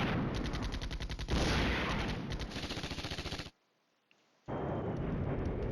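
Rapid automatic gunfire in the wargame Flashpoint Campaigns: Red Storm, loud continuous bursts that cut to a second of near silence before another dense volley starts.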